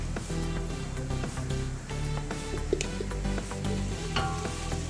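Food sizzles in a hot pan as mandi masala is stirred in, with a steady frying hiss broken by frequent sharp clicks and scrapes of the spoon, fairly quiet and close.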